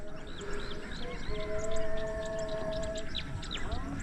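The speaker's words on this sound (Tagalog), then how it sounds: "maririnig mo yung mga huni ng ibon" Several birds chirp and tweet in scattered short calls over a quiet outdoor background, with a steady faint tone running through the middle.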